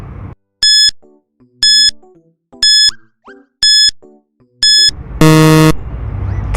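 A quiz countdown timer gives five evenly spaced electronic beeps about a second apart, then a longer, louder buzzer tone sounds to end the countdown, with no talk.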